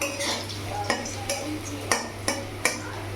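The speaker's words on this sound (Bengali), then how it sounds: "পাশে একটা কড়াই বসিয়ে আলুটা একটু ভেজেই নিই" Potatoes frying in a wok for a tengra fish curry: a few crisp, intermittent scrapes and clinks of a spatula against the pan over a low, steady background hum, close up.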